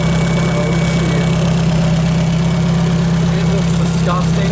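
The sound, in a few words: Toyota Starlet 5EFE wrecker engine running on test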